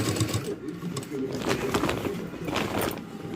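A sewing machine runs close by, stitching handles onto a shopping bag made from a reused rice bag, with an even, continuous whir and needle rattle throughout.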